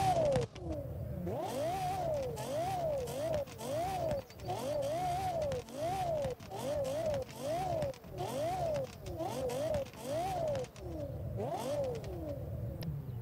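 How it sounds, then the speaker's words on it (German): A Lexus LFA in the racing game Forza Horizon 4 revs repeatedly, its engine note rising and falling in quick sweeping cycles, loud and steady throughout. "wir hören mal rein in den LFA"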